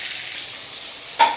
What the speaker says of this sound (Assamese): এতিয়া মাছ ভাজিছোঁ